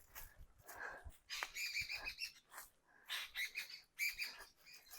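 Birds chirping and calling across open farmland, with bright, repeated tweets coming in short bursts at moderate distance against a quiet background, with no people talking.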